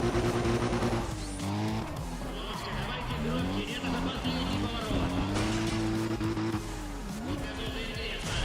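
A car in Need for Speed ProStreet accelerates hard through the gears, its engine rising in pitch and dropping at each shift, loud and continuous beneath a voice talking.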